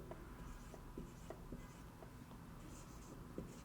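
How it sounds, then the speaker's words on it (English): Pen writing figures on paper during an accounting lesson on retained earnings, with short scratchy strokes repeating in quick, irregular bursts close to the mic, fairly faint against a low background hiss. "So let us write here"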